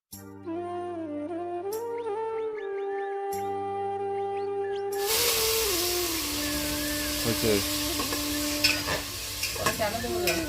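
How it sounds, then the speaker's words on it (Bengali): Sun-dried rice, lentils and vegetables are fried together in a pan. After a stretch of tonal music, a loud, dense sizzle and stirring hiss sets in, with a voice talking over it. "আতপ চালটা দেওয়ার পর তারপরে আমি ভালো করে একটু ভেজে নেব চালটা সহ ডালটা সহ সব কিছু একসাথে ভালো করে ভেজে নিয়ে"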